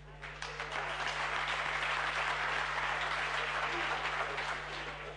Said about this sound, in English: Now let's clap for them properly.